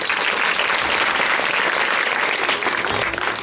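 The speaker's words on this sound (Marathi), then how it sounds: "आपण सर्वात आधी टाळ्या वाजवूया जोरात." Loud, sustained applause from an audience at a women's gathering in Bhadgaon, dense and steady throughout with no talk over it.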